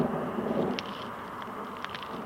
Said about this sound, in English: CC thunder almost overhead.